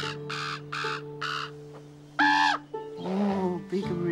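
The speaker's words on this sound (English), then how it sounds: "Oh, big raven." A big wild raven caws out in the open, giving a series of hoarse, evenly spaced calls and then a louder, nearer burst. Other bird calls and a low steady drone run underneath.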